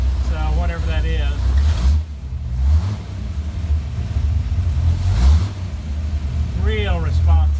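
A 1964 Mercury Comet with its 250 engine idling steadily nearby, a low rumbling drone under someone talking.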